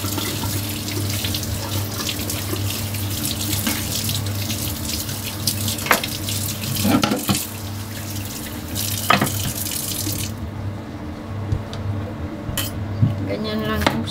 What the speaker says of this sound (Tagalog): And then you need to wash it.